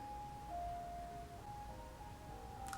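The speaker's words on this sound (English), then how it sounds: "Is that an ice cream truck?" A faint ice cream truck jingle plays in the distance, a thin, tinny melody of sustained electronic tones shifting in pitch over low background noise.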